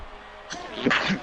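Someone sneezes once, a short sharp burst that rises after a moment of quiet, close and moderately loud during a live motor-racing commentary stream.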